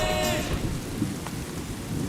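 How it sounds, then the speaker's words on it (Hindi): Steady heavy rain with rolling thunder as a sound effect, a continuous loud wash of rainfall throughout and a brief low rumble near the middle, with no voices. "बारिश।"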